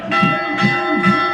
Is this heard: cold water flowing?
no